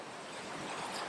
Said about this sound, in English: It's the sound of the falling water.